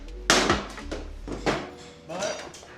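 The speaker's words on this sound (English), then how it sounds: "I gotta hammer out through the other side." Hammer blows driving the axle out of a Harley motorcycle wheel after a crash, a few loud metallic strikes close by with ringing decay and short pauses, mixed with clattering.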